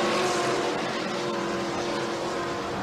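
NASCAR Cup Series stock cars racing on a road course, a dense continuous roar of several loud engines droning together at high revs without a break.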